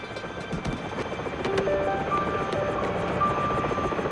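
A cartoon helicopter bot from Transformers Rescue Bots flies with a fast, steady rotor chop thudding throughout, close and moderately loud, with faint tones and effects layered over it.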